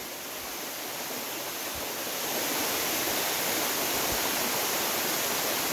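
Steady roar of falling water from Barriowin Falls in upper Marikina, San Jose, broad and constant, growing slightly louder partway through.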